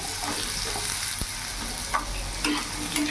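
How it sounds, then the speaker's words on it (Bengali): Diced potatoes frying in hot oil with a tempering that includes broken dried red chili, for a vegetarian sweet pumpkin dish: continuous close sizzle with occasional spatula scrapes and clinks, no talking. "একটু ভাজা ভাজা করে নেব"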